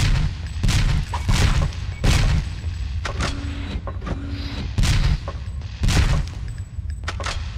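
Rapid video game gunfire with unlimited ammo in Alien Resurrection on PlayStation, repeated booming shots in irregular bursts with echoing tails and a brief mechanical hum between volleys.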